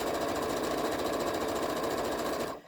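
A sewing machine stitches a mini tote bag in a fast, steady, even whir of needle strokes that runs loud and continuous, then stops abruptly at the end.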